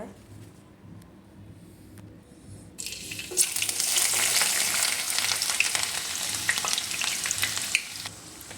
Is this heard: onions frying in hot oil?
yes